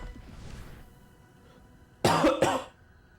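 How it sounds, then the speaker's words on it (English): Two sharp, loud coughs in quick succession, close to the microphone, after a stretch of faint background noise. "I'm sorry for all the coughing."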